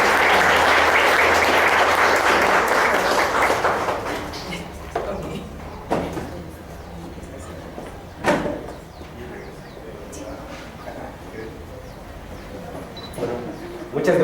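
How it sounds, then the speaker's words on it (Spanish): An audience at an academic talk on psychology training applauds to welcome a speaker, a full round of clapping that gradually thins and fades into scattered claps and quiet room noise. "Entonces les presento, Jorge, recibamos con un aplauso."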